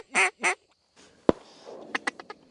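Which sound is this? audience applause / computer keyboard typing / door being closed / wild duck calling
wild duck calling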